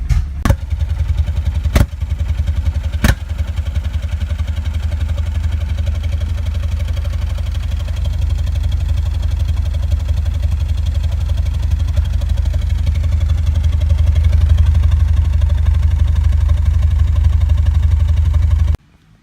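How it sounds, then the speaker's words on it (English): Porsche 944 engine idling roughly, sputtering and misfiring because of crossed spark plug wires, a steady loud low rumble with a few sharp knocks early on, close by and with no talk over it. "that whole little sputtering, misfiring mishap was actually my fault. I crossed the wires"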